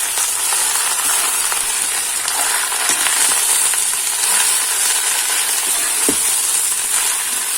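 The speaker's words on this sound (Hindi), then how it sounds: "उनमें हम भाजी ला ऐड कर हूँ और चम्मच चला देते हैं" Chench bhaji greens frying in a pan over a tempering, stirred with a spoon: a loud, continuous sizzle with occasional scraping clinks of the spoon, and no voices.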